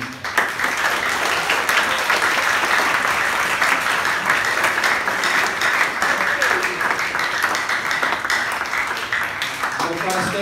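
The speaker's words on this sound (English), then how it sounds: "give them and yourself a warm round of applause" A chapel audience gives a warm, sustained round of applause, dense clapping at steady loudness for about ten seconds with crowd noise mixed in.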